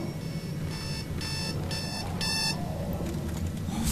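An alarm clock rings in the Dead Space 2 video game, sounding as four or five loud bursts of harsh, rapid beeping in quick succession over a low game background hum, then stopping.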